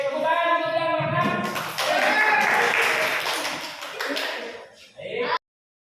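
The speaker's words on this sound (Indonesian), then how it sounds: "tepuk tangan untuk yang menang" A class claps for the winners in a brief burst that overlaps with voices; the clapping fades out and then ends suddenly.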